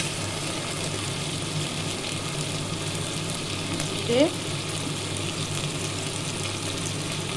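A ground ginger, garlic and tomato masala with turmeric sizzles steadily in hot oil, a continuous close hiss broken by a brief stirring scrape midway.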